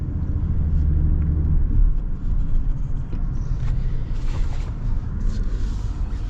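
A 2026 Toyota Tundra Limited TRD Off-Road pickup pulls away, heard from inside as a low engine and road rumble that is heavier at first, then settles into a steady drone with light rattles.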